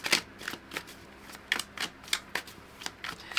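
A journal prompt card deck is shuffled by hand, a string of quick papery riffles and soft flicks in an uneven rhythm, close and quiet with no voices.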